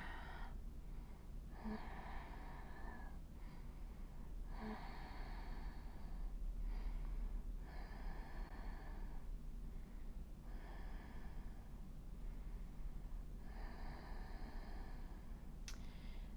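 Slow, deep breathing during a yoga hip stretch, with about six long airy inhale-exhale cycles at an even pace, close and quiet over faint background hiss.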